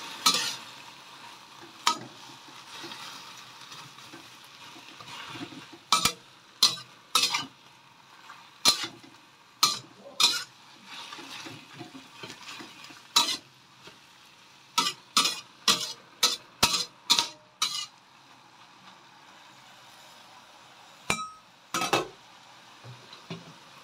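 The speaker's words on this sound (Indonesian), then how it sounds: "tambahkan garam tambahkan penyedap jika suka lalu diaduk-aduk kembali" Lettuce seasoned with salt and flavouring is stirred in a pan: a quiet background sizzle broken by sharp clacks of a utensil against the pan, coming in quick rhythmic bursts with pauses between, and nobody speaks.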